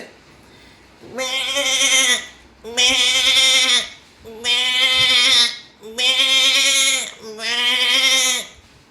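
A person imitates a goat, five drawn-out wavering bleats in a row, each about a second long with short gaps, loud and close.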